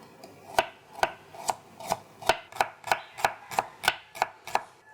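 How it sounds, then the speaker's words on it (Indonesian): Knife thinly slicing shallots on a cutting board, a dozen crisp, evenly spaced chops in a steady rhythm, close and clear with no talking. "Pertama-tama saya akan mengiris bawang merahnya. Jadi ini diiris tipis-tipis ya."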